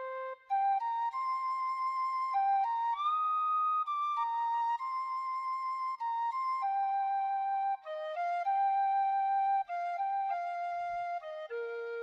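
A reverberant melodic line of sustained, whistle-like tones gliding between notes, with a soft spacious wash trailing behind from reverb through a Soundcraft Signature analog console, continuous and moderately loud.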